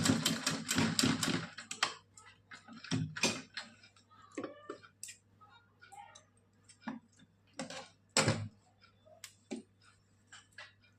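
A sewing machine stitches a cotton doll dress in bursts of rapid, sharp mechanical clicks, with pauses and softer ticks between runs, close and fairly quiet.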